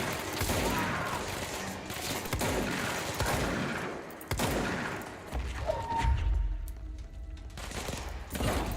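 Bursts of rapid gunfire in a shooter video game, dense volleys and sharp shots over several seconds, easing into quieter thuds near the end.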